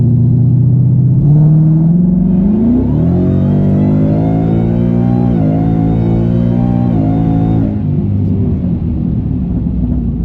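A straight-piped, Whipple-supercharged Mustang V8 on a new tune revs up from idle to high rpm, a loud, rising, raspy roar that holds near the top before easing back, up close with no talk.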